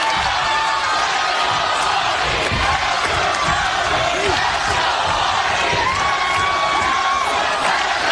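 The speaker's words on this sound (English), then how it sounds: "Definitely a ruckus crowd here this evening live" A packed Impact Zone wrestling crowd in Orlando roars and chants continuously through a live match, a dense wash of cheering and shouting with a commentator's voice over it.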